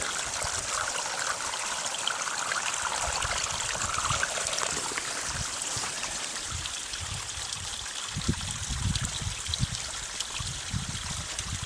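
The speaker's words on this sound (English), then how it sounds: "There's a convenient spot to fill up my bottle." Steady spring water trickles and splashes continuously into a bottle, close by, with a broad rushing wash and no voices.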